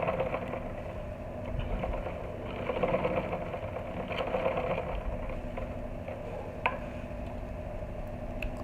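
A sewing machine stitching suede to a blanket piece for a baby bootie, running in a continuous whirring, ticking drone at close range with slight shifts in pace and one sharp click; no voices.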